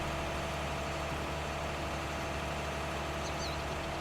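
An articulated tractor in Farming Simulator 19 drones at a steady, low engine hum, close and continuous, with no talking.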